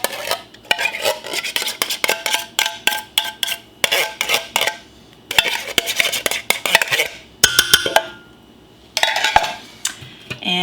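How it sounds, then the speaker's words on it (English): Coconut milk being stirred into soup in a pot: close, rapid metallic clinks and scrapes of a utensil against the pot, coming in repeated bursts with short pauses between. "And give that a stir"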